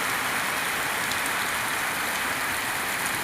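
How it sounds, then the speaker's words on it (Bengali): Heavy rain pouring down outdoors, a dense, unbroken roar of falling water that stays loud and even from start to finish, with no voices. "দেখুন প্রচুর পরিমাণে বৃষ্টি হচ্ছে।"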